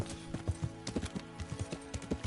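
Horse hooves clip-clopping in the medieval game Kingdom Come, a steady run of fairly quiet hoofbeats in an even walking rhythm with no talk.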